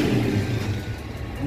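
A 160 motorcycle engine fitted with a popping exhaust idles roughly close by, its low rumble faltering and dipping unevenly as it sputters.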